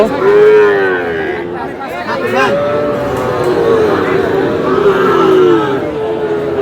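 Sahiwal bull calves on a farm low repeatedly, loud overlapping moos filling the whole stretch, with faint voices underneath.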